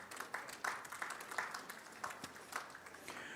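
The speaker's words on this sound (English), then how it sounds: "Let's give them a round of applause." Audience applause at a collegiate livestock judging contest awards banquet, a quiet, thin patter of clapping from a modest crowd with soft, uneven peaks, heard from some distance.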